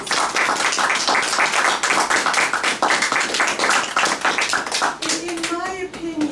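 A crowd applauds steadily with dense, continuous clapping, and a voice starts speaking over it near the end.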